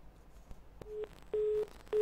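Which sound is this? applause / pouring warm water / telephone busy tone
telephone busy tone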